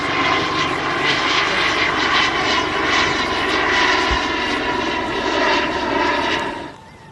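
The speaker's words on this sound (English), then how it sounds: "Well, I bet that is a sightseeing chopper." A sightseeing helicopter passes overhead with a loud, steady engine drone that holds for several seconds, then drops off sharply near the end.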